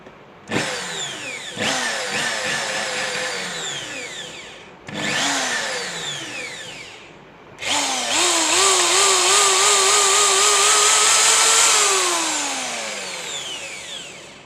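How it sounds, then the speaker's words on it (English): A Black & Decker electric drill whirs up in three separate runs, pitch rising and falling, the last run long and steady before winding down; loud and close. "your drill machine is ready to work"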